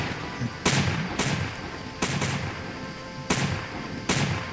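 Ship cannons firing in the Roblox naval game The Turbulent Seas, with five heavy booming blasts at irregular intervals, each with a sharp crack and a rumbling tail, over a steady background bed.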